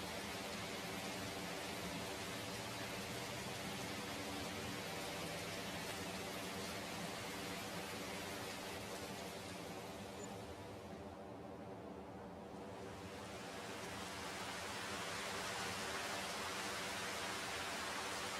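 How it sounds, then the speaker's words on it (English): Steady rain falls in the farming video game Farming Simulator 25, a constant dense hiss that holds evenly throughout with no voices. "Oh God, it's still bloody raining."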